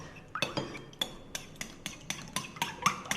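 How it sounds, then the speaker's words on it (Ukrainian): Eggs being whisked into milk in a bowl during confectionery prep: rapid, steady clinks of a whisk against the bowl, about four strokes a second, close and moderately loud with no talking. "І збиваємо, щоб розчинилися яйця в молоці."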